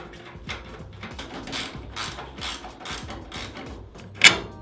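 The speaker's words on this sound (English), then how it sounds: "let's unbolt this" A hand ratchet unbolting a car part: a series of close, quick clicking ratchet strokes in an irregular rhythm, with a sharper clank near the end.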